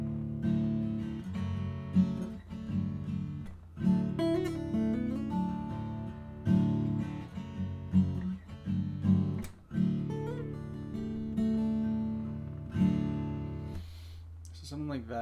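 Acoustic guitar in open D tuning (DADF#AD) strumming open chords with short melodic riffs woven between them, steady rhythmic strums with brief picked runs, close and clear with no talking.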